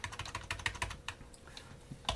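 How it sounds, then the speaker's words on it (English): Code is typed on a computer keyboard in quick, close clicking keystrokes, a dense burst that slows to a few scattered taps and ends with one last key press, with no voice. "I'm going to type in IR sensor equals."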